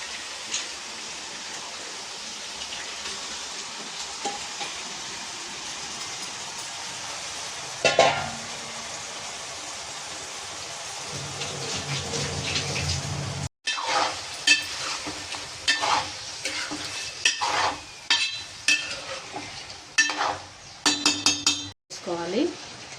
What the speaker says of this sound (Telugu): చికెన్ కర్రీ వేసేసుకుంటే బాగా నూనెలో మగ్గబెట్టాలి